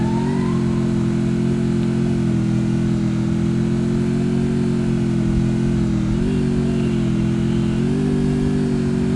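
Motorbike driven in the Free Fire video game, a steady droning mid-pitched engine note held throughout with slight pitch dips and rises as it is steered, loud and close with no talk.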